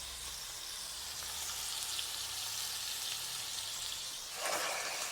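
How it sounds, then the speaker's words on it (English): Ground bison sizzles steadily in a hot pan on a hot plate, a constant crackling hiss with a brief louder burst near the end as it's stirred. "Listen to that sizzle."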